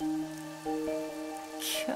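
Steady rain in the video game Master Detective Archives: Rain Code patters under sustained, humming musical tones, with a brief burst of louder hiss near the end.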